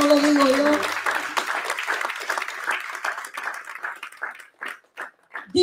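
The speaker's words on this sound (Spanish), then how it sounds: "dale un aplauso a Dios" Church congregation breaking into applause, loud and dense at first with a sung or sustained voice over it, then thinning into scattered claps that fade to a few isolated hand claps.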